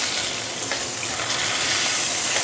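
Sambal fish fries in a lidded pan over a lowered flame. A dense, even sizzle crackles continuously and up close, with no voices.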